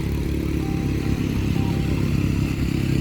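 Motorbikes and cars drive across a crowded beach, a continuous loud low engine rumble with clattering texture and no pauses.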